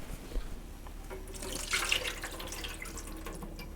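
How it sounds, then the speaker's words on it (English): Soaked raw cashews drained of their water in a kitchen, a quiet continuous splashing pour with a brief louder gush midway, fairly close and without talk. "I'm going to get these drained"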